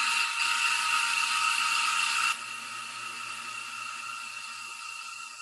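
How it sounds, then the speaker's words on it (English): A vacuum pump on a screenprinting exposure unit runs as a steady whirring hiss, louder for the first couple of seconds and then settling to a lower continuous drone, with no talking. "the vacuum's actually sucking it."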